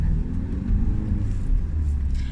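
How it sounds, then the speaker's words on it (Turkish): Cars driving along a busy road on a long-distance road trip through Turkey and Europe, a constant low rumble of traffic and engine noise heard up close, with no talk. "çok araba var burada"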